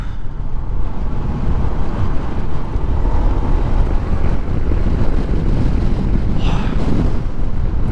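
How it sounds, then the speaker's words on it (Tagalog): Strong wind buffets a rider on an ADV160 scooter, a loud continuous rumble of gusting air over the microphone that lasts the whole ride, with no talk. "Lakas ng hangin dito."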